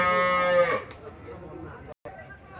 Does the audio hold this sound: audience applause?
no